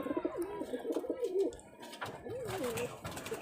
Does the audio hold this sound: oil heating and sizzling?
no